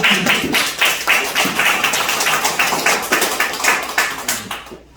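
A crowd applauds at the launch ceremony of the Suncheon women CEOs' association, with steady dense clapping close by that carries on without a break and fades at the very end.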